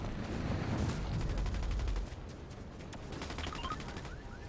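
Gunfire in the Fortnite video game crackles in rapid bursts, heavy at first and then thinning into lighter, scattered shots.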